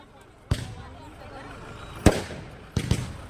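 Firecrackers go off at an election road show, three sharp bangs spaced apart, the last a quick double crack, standing out against low background noise.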